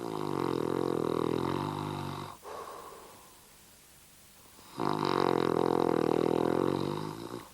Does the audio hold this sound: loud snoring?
yes